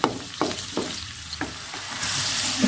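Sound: water with galangal boiling in a pan

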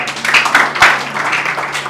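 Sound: guests applauding the wedding couple

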